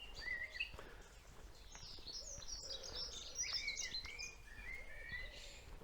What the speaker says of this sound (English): We've got chaffinches here, and you've got a blackbird or a robin up there in the trees.